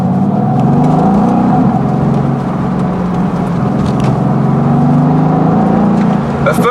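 A Mercedes-AMG GT S engine holds a loud, steady droning rev, its tone rising and falling slightly, with a few sharp exhaust crackles toward the end.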